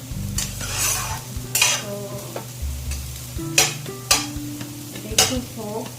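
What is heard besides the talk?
egg frying on a tawa griddle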